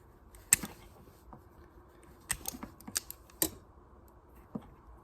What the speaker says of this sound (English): let's go ahead and cut a little bit of the sleeve off here